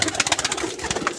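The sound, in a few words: pigeons cooing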